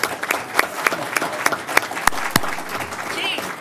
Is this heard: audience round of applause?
yes